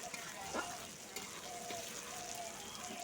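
Onions frying in oil in a pan over low heat for a jackfruit curry give a steady, close sizzle with soft crackles and a brief stir partway through.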